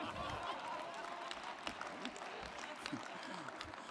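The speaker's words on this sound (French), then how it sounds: "vous pouvez applaudir" A crowd applauding together in a dense, even wash of clapping, with some murmuring voices mixed in.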